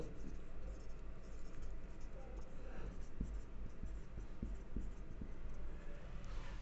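Pen scratching across paper while writing out a geometry proof about a circle, steady soft strokes with a few sharper taps, under quiet classroom-style room noise.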